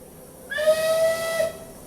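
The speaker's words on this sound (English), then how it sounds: "That was a whistle blowing." A steam locomotive whistle, from the Taw Valley engine, sounds one clear sustained tonal blast of about a second with a breathy hiss, close and fairly loud, starting and stopping cleanly over quiet background.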